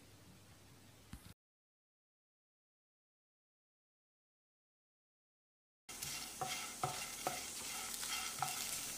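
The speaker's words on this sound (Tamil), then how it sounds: "கருவேப்பிலை மொறுமொறுப்பாக ஆகிற வரைக்கும் வறுக்கணும்" Curry leaves fry over a moderate flame until crisp for a yam fry, a steady close sizzle with stirring scrapes that cuts out, falls silent, then returns louder and crackling.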